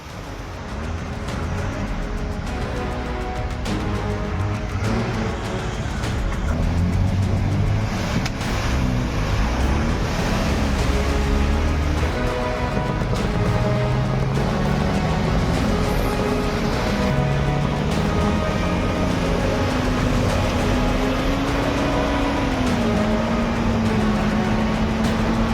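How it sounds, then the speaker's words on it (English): Off-road trucks race through mud with a loud, sustained engine roar whose pitch rises and falls as they rev. Steady spraying and churning noise runs underneath for the whole stretch. "These off-road machines are racing against each other, showing off their raw strength. Just look at it, charging wildly through the mud while dirt and sludge explode everywhere."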